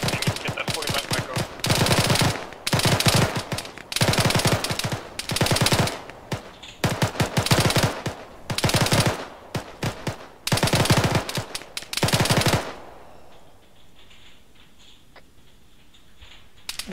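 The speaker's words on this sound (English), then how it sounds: "Squad, open fire as soon as you can." Squad gunfire in Arma 3 during an escape-and-evade operation: loud, close automatic bursts come in about six heavy volleys with brief gaps, then cut off, leaving a quiet stretch with faint distant ticks.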